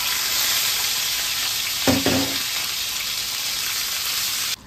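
Garlic, ginger and green chilli paste hits a hot pan while cooking katla fish kalia, giving a steady loud sizzle that swells briefly with a splashing burst as it is poured in, then settles back to continuous frying.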